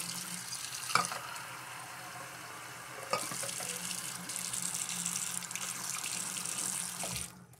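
Water runs steadily from a tap into an Arko shaving soap bowl, a continuous close hiss with a couple of brief knocks, then cuts off near the end.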